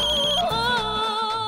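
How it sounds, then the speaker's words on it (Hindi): A mobile phone rings with a bright electronic melodic ringtone, loud and close, playing continuously with no talking. "आपका फोन।"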